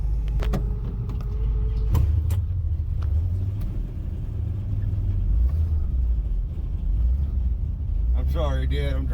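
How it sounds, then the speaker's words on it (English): A custom 1958 Chevy being driven, its engine a steady low rumble inside the cabin, with a few clicks and a brief whirring at the end. "I'm driving a Chevy."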